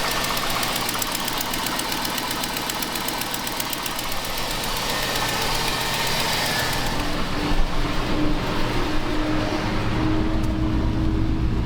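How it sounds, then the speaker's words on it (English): A pickup truck engine idles steadily throughout, with a rough, ticking exhaust leak running under the rumble. The sound holds at an even, close level from start to finish. "I really gotta fix that exhaust leak."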